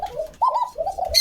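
Pigeons on a pigeon farm give a few soft, close coos in low rolling bursts with brief pauses between them.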